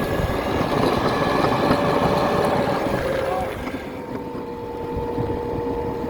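A mini electric cart speeds up to full throttle on 36 volts with a steady loud whine and wind rush. The whine eases and drops slightly toward the end.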